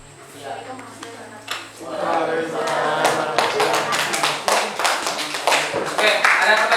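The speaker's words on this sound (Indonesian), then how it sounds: "Tepuk tangan dulu jika kelompok yang berhasil" A classroom audience at a high school applauds a group presentation, the clapping building from scattered hands into dense, sustained applause, with voices talking over it.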